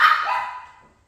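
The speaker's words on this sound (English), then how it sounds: "Sorry, noisy dogs." Dogs bark in one short, sharp burst that quickly tails off, fairly loud and nearby, with no talking over it.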